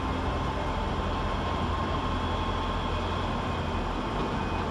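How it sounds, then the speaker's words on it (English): A ScotRail Class 385 electric train pulls out of Glasgow Queen Street station, a steady broadband rumble and hum of the departing unit on the far side, continuous and fairly even in level, with station ambience and no talking. "Departing on the far side is 385109, working the 1633 Scotrail service to Stirling."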